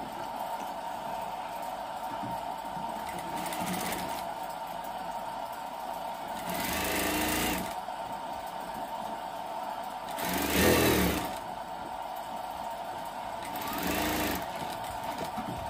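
An electric sewing machine stitches the sleeve of a full umbrella-cut garment in short bursts, four distinct loud runs of whirring stitching separated by quieter pauses, with a steady background hum.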